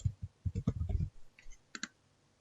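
Mouse clicks in Microsoft Teams, a quick run of soft close clicks followed after a short gap by a couple more sharp, quiet taps.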